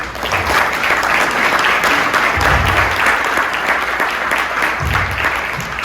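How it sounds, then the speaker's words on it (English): Conference audience applauding an SEO speaker at a Philadelphia marketing event, a loud, dense and steady clapping that fills the room for several seconds, with a few low thumps underneath. "big round of applause, Lily Ray"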